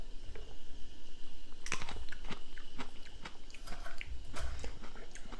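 Close, crisp bites and crunchy chewing of a raw banana pepper, several sharp crunches scattered over soft mouth noise, with no talking.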